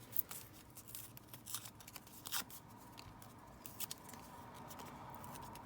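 Paper being torn down by hand while making a stamped and inked journal card, heard as a quiet run of short rustling rips and crinkles at close range, with no talk.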